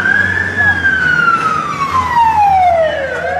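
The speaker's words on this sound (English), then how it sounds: "You'll hear the police vans coming past." Police vans pass nearby on a busy road, a loud wailing siren sweeping slowly downward in pitch over traffic rumble.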